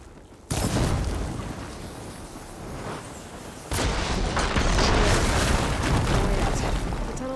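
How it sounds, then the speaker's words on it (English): Blaze barrels in Horizon Forbidden West detonating after being hit with fire ammo: two heavy booming explosions a few seconds apart, each followed by a long roaring, rumbling fire tail, loud and close. "Hitting those blaze barrels with fire ammo should do the trick."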